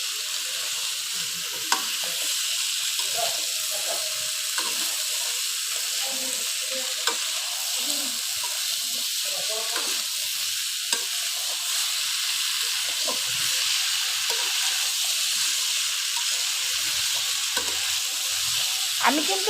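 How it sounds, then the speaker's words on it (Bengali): Winter vegetables and spices sizzling steadily in a hot pan for a Bengali fish curry, with a constant bright hiss and occasional scrape-and-clink of the stirring spoon, close and continuous with no talking. "এগুলো মশলার সাথে নেড়ে চেড়ে খুব ভালোভাবে মিশিয়ে নিচ্ছি।"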